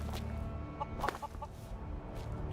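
A chicken clucks in the game Skyrim, a few short, close clucks standing out against a quiet ambient background with faint low droning hum.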